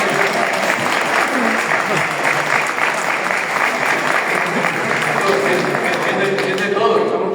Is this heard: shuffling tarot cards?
no